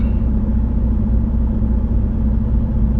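A truck engine runs on a winter day with a steady, close, low rumble that holds evenly throughout, with no talking.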